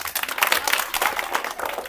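A group of students claps for a speaker at a village-versus-city debate, a dense burst of close applause lasting a couple of seconds with uneven, fluttering loudness.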